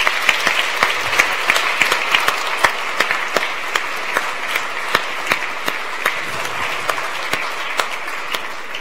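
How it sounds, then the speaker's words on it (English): Audience applause after the final race of an autonomous model-car competition, with distinct claps ringing out over a thinner crowd wash, crisp and fairly close, holding steady for several seconds. "Big round of applause"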